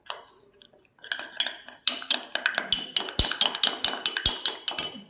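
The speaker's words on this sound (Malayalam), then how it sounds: "സ്പൂൺ വെച്ച് മിക്സ് ചെയ്താൽ മതി." A spoon mixing a honey face mask in a bowl: after quiet opening scrapes, rapid rhythmic clinks and taps of metal against the bowl ring out close and bright, roughly three per second, with no talking.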